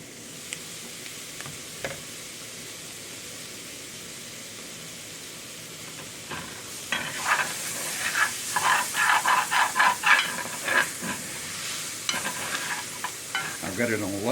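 Vegetables stirred into a gumbo roux sizzle with a low, steady hiss that grows busier and louder partway through, as close stirring strokes scrape and clatter in an irregular rhythm.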